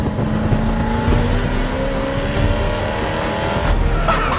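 Hennessey Venom GT doing a third gear roll-on acceleration, its turbos spooling up; a loud, rough engine roar with a faint whine climbing steadily in pitch throughout, heard from inside without talking.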